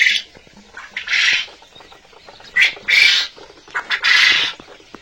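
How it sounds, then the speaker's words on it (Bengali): Birds squawking at a small goat farm on a foggy morning, several loud, harsh bursts close by, separated by short pauses over a quiet background. "পাখিগুলা অনেকক্ষণ ধরে ডাকাডাকি করতেছে।"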